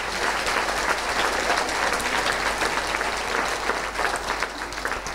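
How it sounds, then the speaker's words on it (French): Dense, sustained applause from a large audience at a New Year's greetings ceremony honoring young graduates, continuous loud clapping filling the room without pause. "On peut les applaudir."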